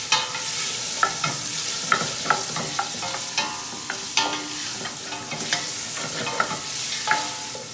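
Carrots and celery sizzle in a hot pan while a utensil scrapes and stirs them, giving a dozen or so sharp, irregular clacks over a steady frying hiss, close and alone.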